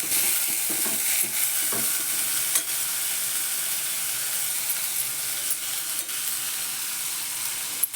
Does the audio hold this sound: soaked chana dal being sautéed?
yes